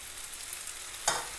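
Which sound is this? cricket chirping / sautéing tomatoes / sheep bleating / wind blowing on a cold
sautéing tomatoes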